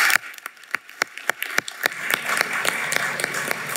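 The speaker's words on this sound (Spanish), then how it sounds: "Un aplauso para ustedes." Applause with distinct sharp claps standing out over a broad wash of clapping, fairly loud and steady throughout.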